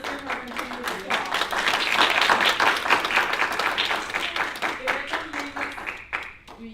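Continued audience applause at a Toastmasters meeting fills the room, steady dense clapping from a crowd that rises to a peak mid-way and tapers slightly, with scattered voices calling out over it.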